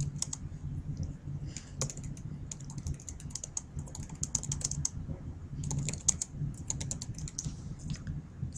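Close, quiet clicking of a computer keyboard in bursts of quick keystrokes with short pauses between them.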